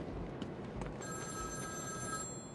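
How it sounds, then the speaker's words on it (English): A telephone rings in the video game Batman: Arkham City, a faint electronic bell trilling in one sustained burst over quiet ambient background. "I kept hearing a phone earlier when I was doing the AR challenge"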